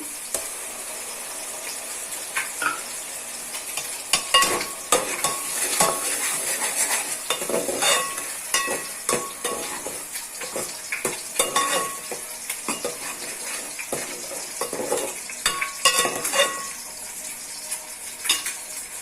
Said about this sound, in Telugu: ఇప్పుడు ఆనియన్స్ కట్ చేసుకున్న పెట్టుకున్న ఆనియన్స్ పేస్ట్ వేసుకోవాలి